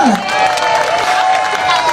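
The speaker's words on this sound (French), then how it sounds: "Est-ce qu'on peut applaudir bien pour le groupe Mangofla, s'il vous plaît?" Carnival parade crowd at Mardi Gras in Basse-Terre cheering and applauding the Mangofla group, loud close mix of whoops, clapping and shouting voices.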